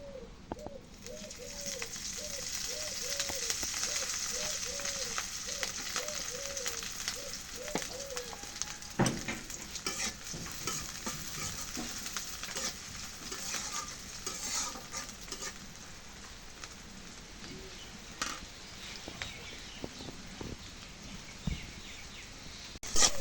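Lentils fry in a pan with a steady, close sizzle while a spoon stirs and scrapes through them repeatedly; birds chirp faintly in the background early on.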